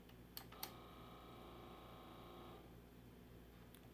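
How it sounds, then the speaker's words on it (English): A faulty cassette tape deck whirs steadily and faintly for a couple of seconds, with a couple of sharp clicks near the start before the whir fades out. "Hopefully you guys can hear that whirring sound"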